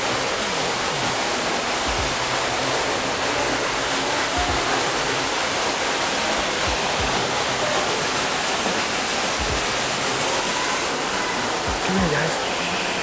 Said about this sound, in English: I bet it's getting kind of loud because we're at the bottom of the waterfall now